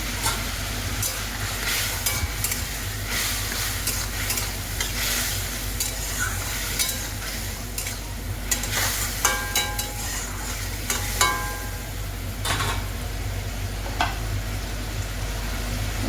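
Taro with chili and cumin frying in a pan, a steady loud sizzle running throughout with occasional scrapes and clinks of a spatula stirring, close and continuous, no talking.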